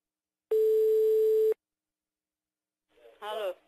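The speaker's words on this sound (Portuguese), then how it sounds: "Ele tá chamando, tá chamando." A telephone ring tone sounds once during a prank call, as a single steady electronic tone lasting about a second, followed by silence and then a voice on the line.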